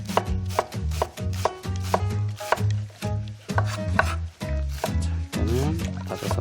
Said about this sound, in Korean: 이거는 다져서 묵직하게 다져서